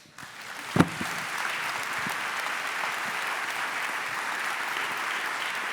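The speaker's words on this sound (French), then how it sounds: "c'est sur ces applaudissements qu'on va achever cette table ronde" An audience applauds steadily, a dense wash of clapping that starts with a sharp clap and holds evenly throughout.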